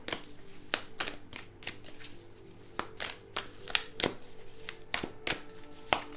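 A deck of oracle cards being shuffled by hand, a rapid series of crisp riffles and taps close up, with brief soft pauses between bursts.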